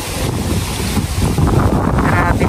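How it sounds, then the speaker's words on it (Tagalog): Strong wind buffets the microphone on a small fishing boat at sea, a loud, continuous roar with gusty swells and water noise underneath. "Grabe lakas ng hangin po."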